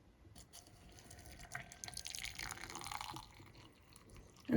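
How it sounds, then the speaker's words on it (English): Boiling water is poured into a mug, making a faint, soft trickling and filling splash that swells gently in the middle before trailing off. "put in a mug's worth of boiling water"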